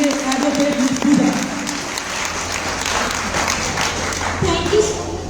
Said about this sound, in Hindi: एक बार जोरदार ताली से स्वागत करेंगे